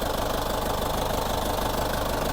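A used tractor's diesel engine runs steadily at idle with a loud, continuous knocking rumble and no voices.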